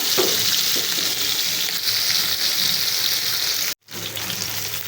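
Fish frying in a pan gives a dense, steady close sizzle that breaks off for a moment near the end before resuming.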